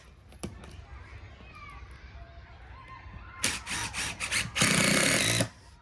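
A power driver sinks screws into a 22mm garden room base floor in two short bursts near the end, after quieter handling noise and faint voices in the background.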